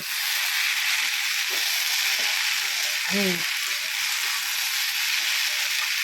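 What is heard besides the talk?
frying food in a pan while pressing it down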